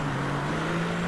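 A Mercedes engine in the racing game Driveclub, a steady droning hum with a strong low tone held evenly, loud and close, no talking over it.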